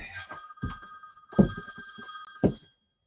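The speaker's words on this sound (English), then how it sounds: "So of course we got a phone call." An old-style telephone bell ringing in a workshop, three short rings in a steady pattern, clear and close, then silence.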